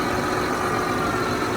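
A tractor engine, running with no coolant, hums and vibrates in a steady, continuous idle close by, with no voices over it.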